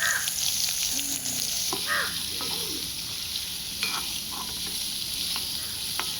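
Onions are sautéed in a pan for a dried anchovy curry, producing a constant close sizzle and hiss while crows caw now and then in the background of an outdoor village setting.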